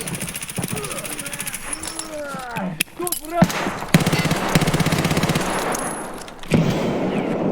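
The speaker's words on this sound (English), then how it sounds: "I'm shooting him in the legs." Gunfire in Escape from Tarkov comes as rapid bursts of automatic fire that start midway and keep going in a dense rattle, loud and close, with people talking over earlier parts.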